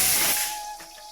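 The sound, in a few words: pressure cooker whistle while cooking rice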